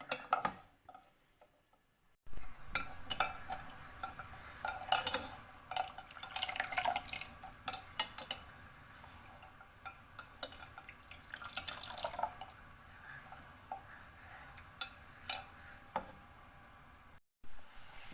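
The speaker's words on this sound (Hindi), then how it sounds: "अब हम इसको 5 से 7 मिनट के लिए मज़ीद इसी तरह फेंटते रहेंगे" Kashmiri pink tea is beaten vigorously in a pot as it reduces, giving irregular wet sloshing and splashing strokes. The sound is fairly close, with a short pause near the start and no speech.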